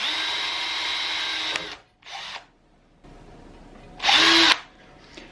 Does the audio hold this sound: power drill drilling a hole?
yes